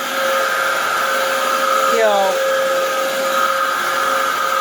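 A Dyson DC07 vacuum cleaner runs on apartment carpet with a loud, steady motor drone and whine, close and continuous throughout with no talking.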